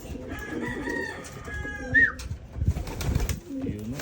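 A male homing pigeon calls while seeking a mate, a short vocal sound outdoors among other birds, with a sharp chirp near the middle and scattered rustling and background noise around it.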